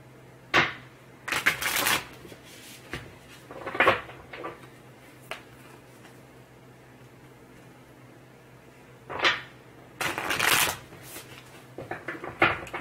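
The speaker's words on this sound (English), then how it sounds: "One more shuffle." Several bursts of playing cards being shuffled, crisp riffling rattles close by, separated by quiet pauses with a faint low hum underneath.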